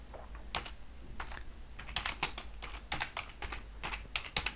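Brisk, uneven bursts of computer keyboard typing while a name is entered into a mapping web application, close and fairly quiet with no talking.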